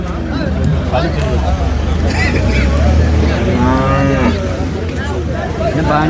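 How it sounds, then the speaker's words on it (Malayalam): Cows moo at a busy cattle market, one long low call rising over a steady murmur of crowd chatter and nearby voices, with other livestock noise around. "ഇപ്പോൾ ഒരു പശുവിനെ അദ്ദേഹം നോക്കിക്കൊണ്ടിരിക്കുകയാണ്"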